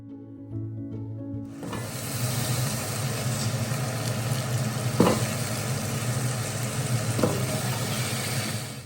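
Spices crackle and sizzle as they temper in hot oil for a home-cooked mutton curry, a steady close frying hiss with a few sharp pops, starting after a brief low hum.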